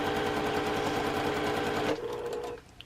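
Domestic sewing machine stitching quilt block pieces, a rapid steady whirring chatter for about two seconds before it slows and stops.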